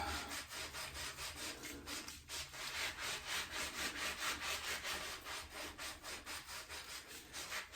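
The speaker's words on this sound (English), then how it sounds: "scrub a little harder between the lettering, between the embossing letters and all" Brush scrubbing buried dirt off an embossed dug glass bottle, a fast rhythmic back-and-forth scraping with regular strokes, close and fairly loud with no talking.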